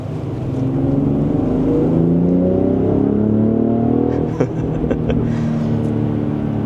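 A 2025 BMW X3 M50 performance crossover accelerates hard along back roads, heard from the cabin. The engine note climbs steadily in pitch, with a brief shift partway through, and no one speaks.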